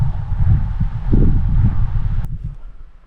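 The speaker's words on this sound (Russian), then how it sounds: "Сегодня ветер, чтобы подкрасться самое то." Autumn wind blows outdoors during the opening of duck hunting season, a low, gusty rumble buffeting the microphone that swells and eases, then cuts off sharply near the end.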